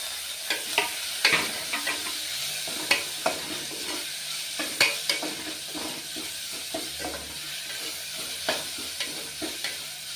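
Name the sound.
tomatoes added to a pan, frying and stirring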